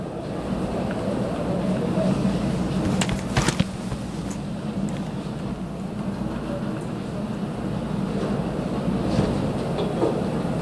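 In a video game, a train at a station rumbles steadily nearby with a low continuous drone and a few faint metallic clicks, while people talk quietly beneath it.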